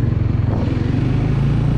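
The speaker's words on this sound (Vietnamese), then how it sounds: "Rồi bây giờ mình sẽ đi theo đoàn mô tô luôn anh em ơi." A group of small motorcycles, Winner 150 and Exciter 150 models, riding together at night on a tour near Bao Loc, with a steady, loud engine drone and a low rumbling throb throughout.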